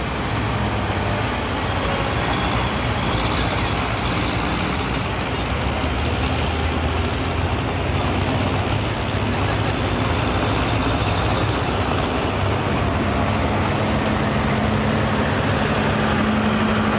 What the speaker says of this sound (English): I guess it's the loud engine bringing them out of your beehive there.